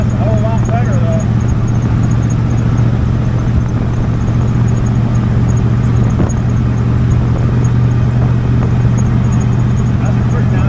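A rat rod car on Denman Straight Line tires cruises along a road, its steady engine and road rumble continuous and close throughout, with people talking over the drive.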